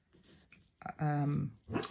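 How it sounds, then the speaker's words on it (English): A sleeping puppy whimpers while dreaming, a soft yelp followed by a drawn-out whining cry and a brief second whine, close by in a quiet room. "Oh, sorry, my puppy's dreaming, if you heard that."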